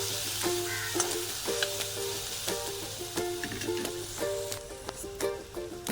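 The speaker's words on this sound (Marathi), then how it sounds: "तेल छान तापलं जिरे मोहरी चांगली तडकली की गॅस हा बारीकच ठेवायचा" Cumin and mustard seeds crackle and pop in hot oil over a low gas flame, a steady close sizzle dotted with sharp spitting bursts throughout, no talking.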